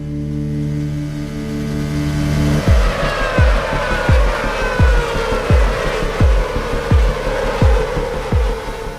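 Racing cars scream past one after another, engines rising and dropping in quick repeated bursts, loud and near, with shifting revs and tire noise.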